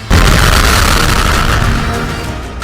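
A loud explosion boom tied to Israeli strikes in the Middle East, a heavy low rumble that hits abruptly and sustains as a broad roar, slowly fading over a few seconds with no speech.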